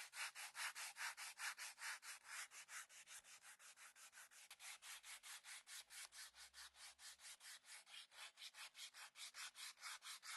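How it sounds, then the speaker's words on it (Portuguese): A piece of MDF with sandpaper rubs back and forth inside a wooden board to remove splinters, a steady rhythmic scratching of about four strokes per second, close and unbroken. "E nós vamos lixar aqui por dentro para remover essas farpas"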